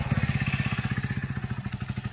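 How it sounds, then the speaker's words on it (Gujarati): A motorcycle engine idling close by with a steady, rapid putter, quiet and alone, on a rainy outing. "મિતેશભાઈ જો બાઇક કાઢે"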